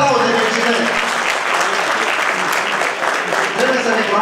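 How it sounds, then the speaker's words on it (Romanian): An audience at an award ceremony for the Paștele Cailor horse festival in Târgoviște gives dense, continuous applause that stays close and loud for about four seconds. "Aplauze, felicitări!"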